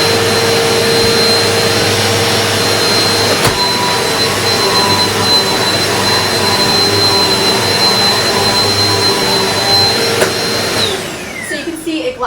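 Eureka PowerSpeed vacuum cleaner running steadily on a floor, a loud continuous whirring roar with a high motor whine that holds constant before dropping away near the end.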